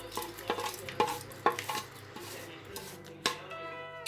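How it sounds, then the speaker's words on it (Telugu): Fried puffed rice, poha and peanuts tipped into a pan and stirred, giving a series of sharp spoon scrapes and clinks against the metal over a faint sizzle, close and clear with no talking. "ఫ్రై చేసి పెట్టుకున్న మరమరాలను యాడ్ చేసుకోవాలి చేసుకున్న అటుకులు వేరుశనగులు కూడా యాడ్ చేసుకోవాలి"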